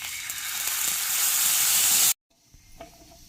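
Mustard seeds sizzle and crackle in hot mustard oil in a kadai, a loud steady fry that cuts off abruptly, followed by a quiet pause with a few faint pops.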